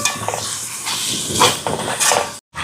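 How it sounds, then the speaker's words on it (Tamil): Tomatoes sauté in a pan for a Jaffna-style chicken devilled dish, giving a hissing, steamy sizzle with brief pan clatter, then a short drop to silence before the hiss resumes. "தக்காளி பழம் கொஞ்சம் வதங்கட்டும்"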